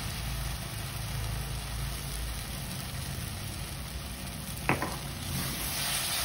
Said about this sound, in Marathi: आणि एक दोन मिनटं याला असं परतून घ्यायचं पुन्हा एकदा